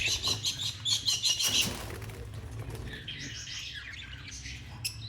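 Pairs of Gouldian and snow white finches chirp at a pet bird exhibition in Islamabad, with a dense burst of high twittering and wing flutter early on, then softer scattered calls over a low background hum.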